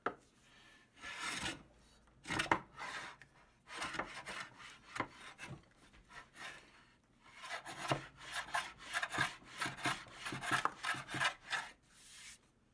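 Hand plane shaving a wooden cutting board, repeated rasping strokes in irregular bursts, some short and some longer runs, close and fairly quiet with pauses between passes.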